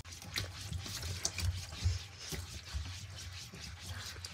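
Water being rubbed into a mouse pad, soft wet scrubbing and squelching strokes in an uneven rhythm, close and quiet.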